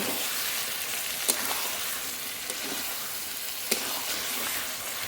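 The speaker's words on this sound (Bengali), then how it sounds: "মাংস থেকে কত জল বেরিয়েছে নেড়ে নেড়ে জল ফুটিয়ে নেব" Chicken curry simmers and is stirred in an open pan, a steady moderate sizzle with two sharp spoon knocks against the pan, no voices.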